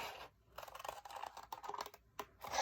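Scissors cutting through cardboard for a recycled cardboard rabbit craft: a close, crisp series of snips and crunching scrapes in short bursts with brief pauses, fairly quiet and heard alone.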